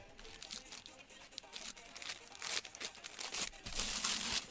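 Backing paper peeled off ironed-on interfacing on face mask pattern pieces, a close crinkling, tearing rustle that grows louder and denser toward the end, with no talking.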